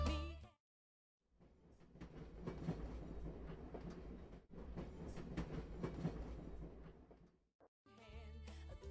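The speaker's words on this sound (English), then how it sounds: "let's go on a train ride" A train ride in the video game Where the Water Tastes Like Wine gives a continuous rumbling, clattering rail noise for several seconds. It sits between brief silences and is steady and moderately loud, with no talking.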